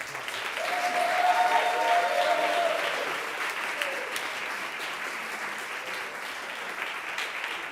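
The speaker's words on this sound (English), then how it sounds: "please give Mr. Antoine Vass a big round of applause" An audience at a university music department seminar applauds, a dense wash of clapping that swells early, then gradually thins and fades while carrying on throughout.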